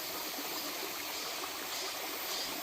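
A mountain valley stream flows over stones, a continuous bright rushing and trickling of water, steady and close, with no other sounds standing out.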